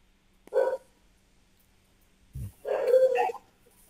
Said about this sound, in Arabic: يا ريان رد بالك على كلب السايب